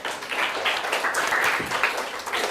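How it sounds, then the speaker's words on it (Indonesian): A class claps hands together in a steady, moderately loud burst of applause lasting a couple of seconds, with no talk over it. "Oke, terima kasih, tepuk tangan."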